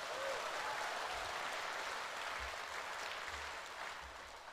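Audience applause at a Warisan Plus political rally announcing candidates for the Sabah state election: dense, steady clapping from a large crowd, continuous and loud throughout, easing slightly toward the end.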